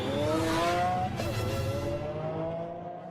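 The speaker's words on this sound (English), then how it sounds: "the prototype model takes to the track to be put through its paces for the first time" A Lamborghini Aventador prototype roars along a test track, its engine note loud and close, holding steady and then dipping slightly as it pulls away over about three seconds.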